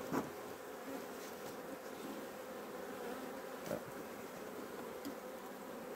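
Honeybees humming around an open colony during a hive inspection, a faint, steady droning buzz that runs throughout, with a few soft clicks and knocks of handled frames and no one talking.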